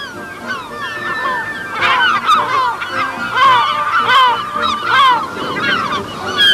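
Seabirds cry over a coastal colony where gulls and albatrosses nest, a busy chorus of overlapping honking and squawking calls rising and falling, loud and close, with a faint wash of surf beneath.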